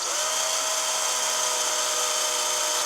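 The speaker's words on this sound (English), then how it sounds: "Now you can see it goes through the sheetrock fairly easy, and then when it hits the stud, it's a little bit harder." A power drill bores through sheetrock into a wooden stud while mounting window blinds, a steady high-pitched whine held at constant speed throughout, close and alone.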